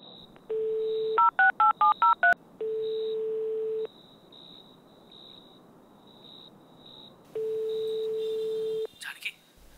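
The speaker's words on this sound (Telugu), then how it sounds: "అయితే నువ్వు వెంటనే శ్రీకి కాల్ చేయి." Touch-tone phone dialing: a steady dial tone, then a quick run of about six beeping keypad tones, followed by repeated long tones and a brief burst of noise at the end.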